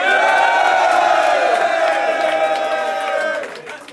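A crowd at a rap battle event in London roars and cheers loudly and steadily, with whoops rising above the din before it starts to fade.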